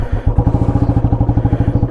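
A modified Royal Enfield Classic 350 pulls away heavily loaded, its single-cylinder engine giving a loud, steady thumping beat close by.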